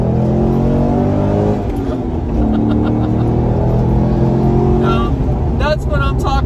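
A Corvette Z06 with an LS6 engine and titanium exhaust accelerates hard, its deep engine note rising in pitch through the revs, loud and close, with a person talking over it throughout.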